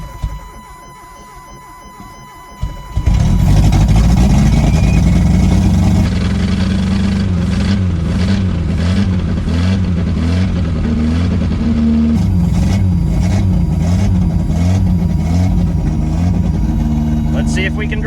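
A 1987 Dodge Colt Vista 4X4 engine roars as the pedal is floored after a quiet start, holding loud, close and rough with wavering pulses through the revving, too much fuel being fed.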